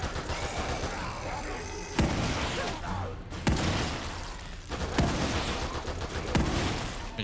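Gunfire in The Evil Within 2, a dense, loud barrage of shots and booms with several sharp heavy blasts standing out over the constant roar.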